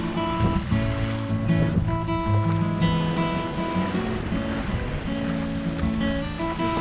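Waves from Hurricane Earl slosh and splash against a sailboat hull at sea, a steady churning wash of water close by, with a droning tone underneath.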